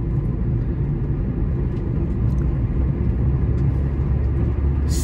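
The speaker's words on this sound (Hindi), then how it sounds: "तो अब अगर मैं इस गाड़ी को रेव अप करूं," Hyundai Grand i10 Nios engine held in fourth gear, a steady loud low rumble of engine and road drone continuing without pause, with no voices over it.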